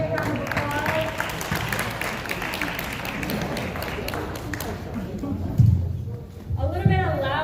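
Applause follows a dance performance at an outdoor Phagwah (Holi) celebration in New York City, a crowd clapping under ongoing talk, with a louder burst of voices and sound near the end.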